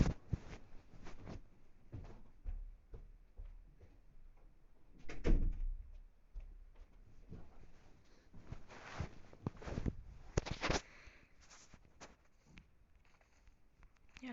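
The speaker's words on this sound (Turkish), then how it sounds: "Ben kapıyı kapatayım arkadaşlar." An indoor door is pushed shut with a muffled thud near the middle, surrounded by faint handling knocks and shuffling in a quiet room.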